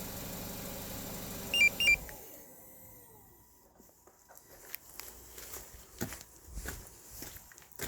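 Remote starter alarm on a New SM5 car shutting the engine off: two short electronic beeps, then the engine rumble cuts out, leaving quiet with scattered faint clicks and knocks.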